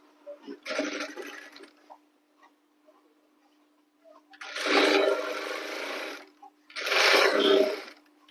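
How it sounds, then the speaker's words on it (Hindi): A sewing machine stitches a blouse in three separate close bursts of steady, rapid mechanical whirring, a short one followed after a pause by a longer run and a final shorter run, with quiet gaps between. "अब हम इसके ऊपर सिलाई लगाएंगे।"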